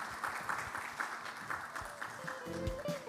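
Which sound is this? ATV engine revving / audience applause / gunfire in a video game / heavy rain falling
audience applause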